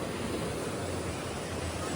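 Steady broadband wash of sea waves at the Tiruchendur seaside temple shore, a continuous moderate roar with no distinct breaks and no voices.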